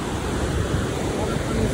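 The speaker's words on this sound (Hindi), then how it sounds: "बस आ रही होगी आवाज पानी की" Fast-flowing river water in Pahalgam, Kashmir, running too strong for rafting, makes a steady broadband rush with no breaks, close by and fairly loud, mixed with some wind noise on the microphone.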